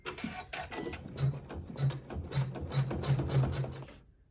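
A sewing machine stitches a tack-down with water-soluble thread on a quilt block, with a fast, even rhythm of needle thumps and mechanical clatter at close range, stopping abruptly at the end.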